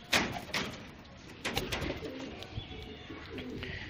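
Pigeons coo softly nearby, low throaty calls mixed with fluttering wings and scuffling, as light rustling and a few other chirps carry in the background.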